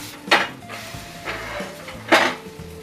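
A thalipeeth flipped on a pan: two sharp metallic scrapes and clanks of a spatula against the pan about two seconds apart, with a faint low hum between them and no voices.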